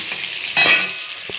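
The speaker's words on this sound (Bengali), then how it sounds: "আলুগুলো একটু লাল লাল করে ভেজে নেব" Potatoes browning in oil in a pan give a close, steady sizzle, swelling briefly as the pieces are stirred and scraped, then settling back with one more soft tap of the utensil.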